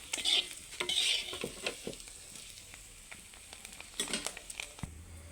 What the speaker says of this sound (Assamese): এয়া দেখিছেনে ধুনীয়াকৈ মাছকেইটা ফ্ৰাই হৈ গ'ল